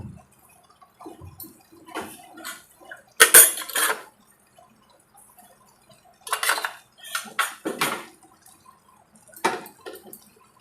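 A spoon stirs cumin powder into a stuffed brinjal curry with curry leaves, giving scattered metallic scrapes and clinks against the pan in short bursts separated by quiet pauses.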